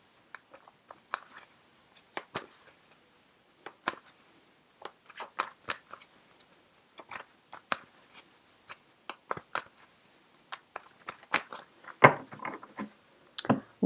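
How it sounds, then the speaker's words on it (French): Tarot cards from a witches' deck being shuffled by hand, giving a close, quiet run of irregular papery slaps and riffles that continue steadily with no talking. "Donc vous mélangez vos cartes,"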